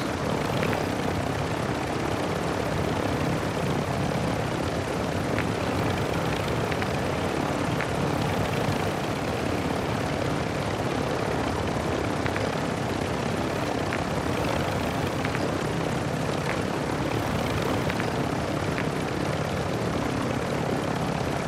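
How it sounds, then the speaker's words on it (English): A helicopter flies in the video game Call of Duty Warzone 2.0 DMZ, its steady rotor and engine roar continuous and fairly loud for the whole stretch, with no talking. "Oh, why is there a fucking helicopter?"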